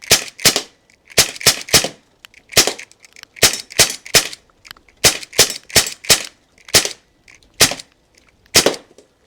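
SIG MCX Canebrake airgun firing repeatedly at a bottle outdoors: a dozen or so sharp, loud cracks in irregular bursts, some shots in quick pairs, with quiet gaps between.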